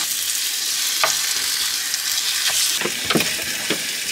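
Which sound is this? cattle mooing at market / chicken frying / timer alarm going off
chicken frying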